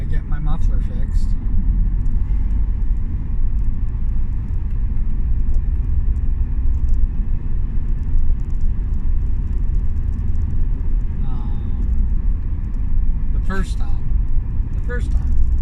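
A car with a broken muffler drives along on a morning commute, a loud, continuous low rumble of exhaust and road noise throughout, with the driver talking over it.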